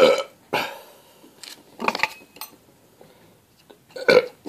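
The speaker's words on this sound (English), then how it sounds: "Those are some weird burps." After a can of expired Coke Zero is chugged, a series of loud, close burps erupts, several separate croaking belches with short quiet gaps between them.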